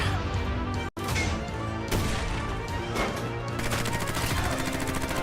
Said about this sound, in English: Hit him with a grenade launcher.